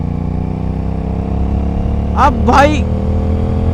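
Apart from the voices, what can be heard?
Aprilia RS 457 motorcycle accelerating in fifth gear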